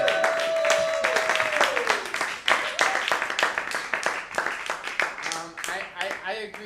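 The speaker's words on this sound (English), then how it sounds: "how about a round of applause" Audience applause at a talk, dense clapping from a crowd that starts strong and gradually thins into scattered claps, with a voice speaking briefly over the start.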